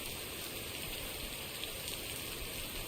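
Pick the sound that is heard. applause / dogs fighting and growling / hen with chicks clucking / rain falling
rain falling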